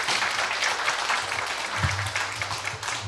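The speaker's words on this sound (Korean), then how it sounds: "홍남희 교수님께 여러분 큰 박수 부탁드립니다." An audience in a Korean humanities lecture hall applauds a university professor after her talk, giving dense, continuous clapping that sounds like a steady wash of noise for the whole stretch, with a low hum underneath.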